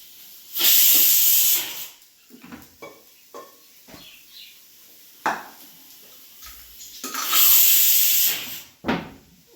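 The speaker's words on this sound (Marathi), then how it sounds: "करपायला लागला कांदा तिकडे" Onion frying and starting to burn in a pan: two loud, hissing sizzle bursts separated by quieter clinks and faint crackles, heard close and without talk.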